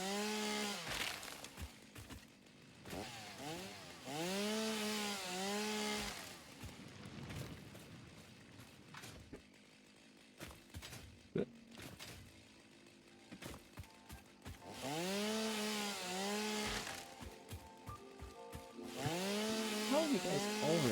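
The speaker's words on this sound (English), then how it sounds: "Now I can run the chainsaw, actually clear out a little bit of this foliage" Chainsaw clearing foliage in Satisfactory, with repeated revving bursts that rise and fall in pitch, separated by quieter pauses and faint thuds, the saw returning loud and steady toward the end.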